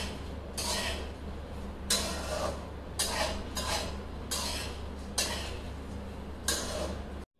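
Raw Dehradun rice dry-frying in a pan is stirred in about seven rhythmic scraping strokes roughly a second apart, each a short bright rasp of spoon against metal over a low steady hum, with no voices.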